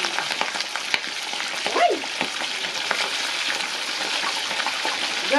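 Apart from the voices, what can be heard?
chicken frying in hot oil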